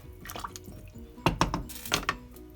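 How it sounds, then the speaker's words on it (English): Water pours from a half-liter container into a cooking pot for courgette soup, splashing and gurgling in two short bursts against a quiet kitchen background. "This is half a liter, so we just added 1 liter of water."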